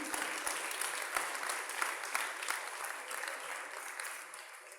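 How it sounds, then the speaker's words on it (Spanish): Congregation at an evangelical church service applauds steadily and fairly loudly, a dense wash of clapping that holds throughout and tapers slightly at the end. "Dele un aplauso al Señor en esta noche."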